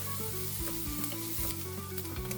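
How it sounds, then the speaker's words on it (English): Food sizzles steadily in a frying pan while garlic is stirred through it, with scraping spatula strokes recurring at a regular pace, close and fairly loud, and no voices present. "Stirring again."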